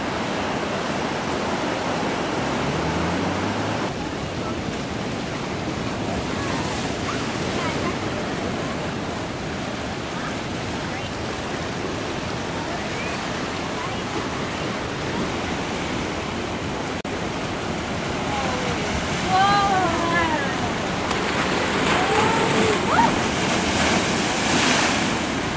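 Ocean waves wash onto a beach near Brisbane, Australia, as a steady, loud broadband roar of surf with gentle swells and a little wind noise on the microphone, continuing throughout.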